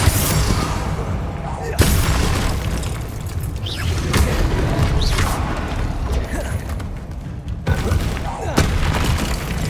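Spell blasts from Confringo and Bombarda fired in the Hogwarts Legacy video game, a dense run of booming, crackling explosions over a constant roar of combat, with sharp bursts near 1.8 and 8.6 seconds.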